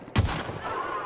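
A single sharp gunshot in The Outer Worlds cracks out loud and close, then trails off into a ringing decay with no other sounds.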